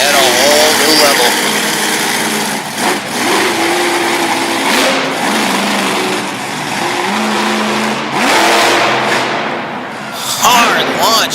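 A monster truck engine roars at full throttle on a hard launch in an arena, loud and continuous with rising and falling revs, under an excited announcer's commentary.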